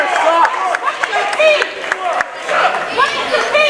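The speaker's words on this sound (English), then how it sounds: "Well, we have a vocal crowd here tonight, right in front of us." Dense crowd chatter and shouting fill a high school varsity boys' basketball gym during a game between Portland High and Edward Little, with sneaker squeaks and bursts of voices rising and falling continuously, loud and close.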